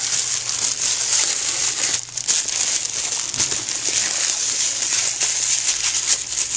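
Packing tape being handled and folded over while wrapping an Easter basket, a continuous crinkling, crackling plastic rustle close to the mic with a few louder crackles partway through.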